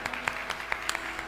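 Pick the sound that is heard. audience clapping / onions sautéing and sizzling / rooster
audience clapping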